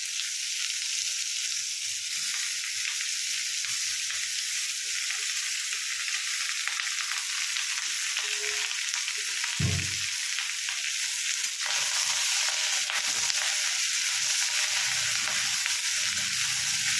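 Chopped bottle gourd sizzles steadily in hot oil in a pan over lowered heat, a continuous close frying hiss with a brief stir or clatter partway through and no talking.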